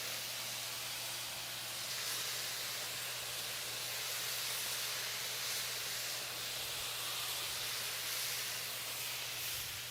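A burger topped with melting cheddar cooks on a griddle, giving a steady, even steam hiss and sizzle that runs unbroken for the whole stretch, with a low constant hum underneath and no voices.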